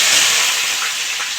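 Onions frying in hot oil with bay leaf, dried chilli and cumin for chicken biryani, a steady, loud, dense sizzle and hiss that holds evenly throughout with no talking.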